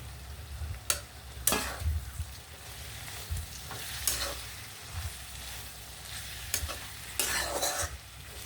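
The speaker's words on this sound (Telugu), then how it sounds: "ఇప్పుడు కాకరకాయ ముక్కలు వేసేస్తున్నానండి" Bitter gourd pieces fry with onions in a pan for a spicy kakarakaya tamarind curry. A continuous sizzle runs throughout, and several sharp stirring scrapes and clatters stand out above it.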